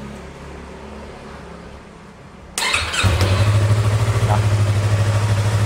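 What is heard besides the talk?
Yamaha R25 motorcycle engine starting after starter repair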